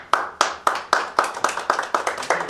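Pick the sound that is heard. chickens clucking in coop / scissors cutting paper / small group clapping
small group clapping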